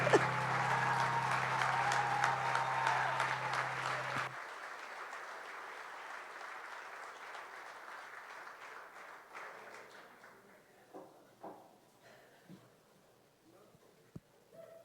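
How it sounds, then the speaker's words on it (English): At an awards ceremony, an audience claps in a dense burst of applause that cuts off sharply after about four seconds, leaving scattered faint claps and room noise. "Can we give them another round of applause?"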